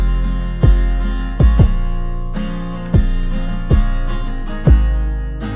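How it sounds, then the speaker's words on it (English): An 808 bass saturated and widened with added highs booms through a hip hop beat, five heavy hits with pitch-dropping attacks over sustained low tones, punchy and alone without voices. "So now our 808 sounds like this."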